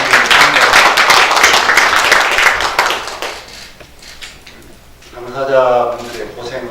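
Audience applause at a Democratic Party livelihood council event welcoming a card-fee reform, a dense burst of clapping for about three seconds that fades out, followed by someone speaking.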